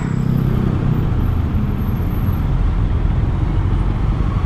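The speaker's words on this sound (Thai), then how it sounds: "รถเยอะมากทุกคน รถโคตรเยอะเลย" Continuous heavy road noise in a traffic jam, a dense low rumble of engines and tires rushing close by without a break, loud and steady throughout.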